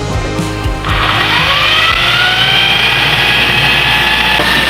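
Soap mixture with added water being stirred by a motorized mixer, a loud, steady whine that kicks in after a low rumble and runs on evenly without pause.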